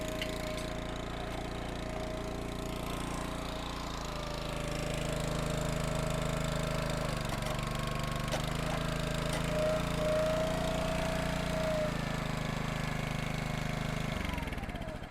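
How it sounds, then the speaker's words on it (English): A worn 18-year-old Split-Fire log splitter's small engine runs steadily with a rough, knocking drone, its pitch rising slightly midway before it winds down at the end. "It sounds like this engine is getting a little bit tired"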